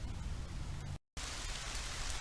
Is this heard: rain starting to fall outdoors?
yes